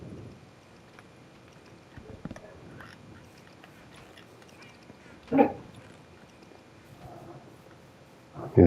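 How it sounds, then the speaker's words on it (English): A pet dog barks a few times indoors, sharp moderate barks spaced apart over quiet background during a Minecraft session, with no talking. "That was my puppy Paris."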